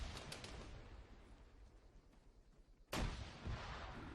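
A grenade explodes in Arma 3 during a King of the Hill firefight in Kavala, one sharp distant crack and boom after quieter gunfire and rumble, faint overall with no talk.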